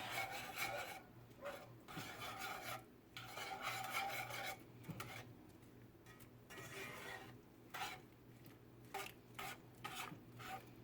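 A wire whisk scrapes and rasps against a pan in quick, uneven bursts, mixing a sauce for Salisbury steak; the strokes are close and fairly quiet with brief pauses between them.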